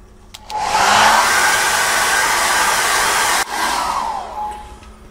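A hair dryer blows to dry gesso on an oval canvas, a loud close steady whoosh that rises in, holds for several seconds, cuts out briefly and resumes before fading down.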